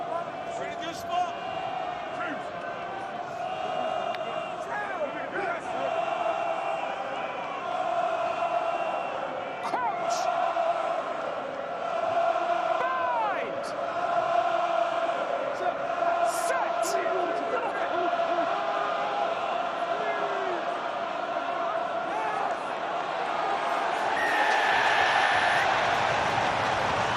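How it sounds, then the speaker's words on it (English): Crowd noise from a packed rugby stadium at Kingsholm during a Gloucester v Sale Premiership match, a steady raucous roar and cheering that holds throughout and swells toward the end, with a commentator's voice over it. "On a day of raucous frenzy in all four Kingsholm stands, that might be the loudest cheer"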